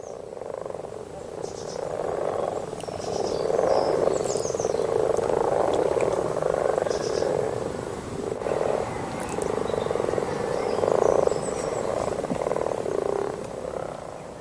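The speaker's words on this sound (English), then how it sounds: "And only the male frogs call." Male frogs call at a pond in early spring, a dense, continuous chorus of overlapping croaks that stays loud and steady throughout with no voices.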